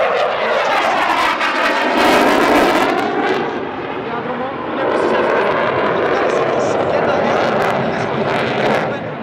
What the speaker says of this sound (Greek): Το Gripen είναι ένα σπουδαίο αεροπλάνο